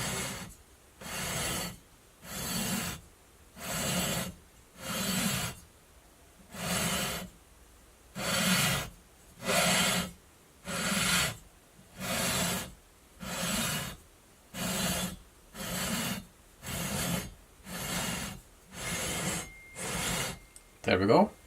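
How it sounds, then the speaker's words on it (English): Rhythmic back-and-forth rasping strokes of a sanding beam leveling the metal frets of a Charvel guitar, about one stroke each second, steady and close with brief pauses between. "I'm just going to let this sanding beam doing its job, and I'm just gonna do a few strokes here."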